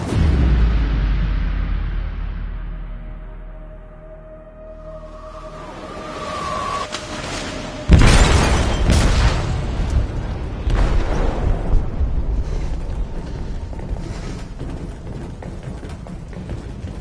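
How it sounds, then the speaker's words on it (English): A loud, deep explosion booms from a bomb set off in a ship's hold in Detroit: Become Human, a sudden blast with a rumbling, crackling tail rolling on for several seconds over a low roar. "They detonated an explosive in the hold."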